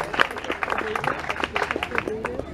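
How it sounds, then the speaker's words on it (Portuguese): A crowd at a live concert in Tavira, Portugal applauds with dense, lively clapping, voices mixing in underneath. "Uma salva de palmas para ele."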